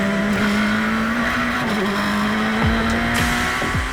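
A Radical race car at a track day, its loud, close engine holding a steady high drone through a chicane, then dropping sharply several times near the end as gears shift.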